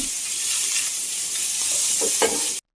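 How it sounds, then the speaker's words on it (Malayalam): Finely chopped medium onion sautéing in a pan for aval upma, giving a loud continuous sizzle with a few stirring scrapes near the end before it cuts off abruptly; no voices. "സവാള ചേർത്ത് വീണ്ടും നല്ലത് വഴറ്റി കൊടുക്കണം"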